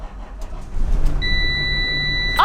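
A school bus diesel engine cranks and catches, a low rumbling build that settles into a steady idle, with a high electronic tone sounding over it.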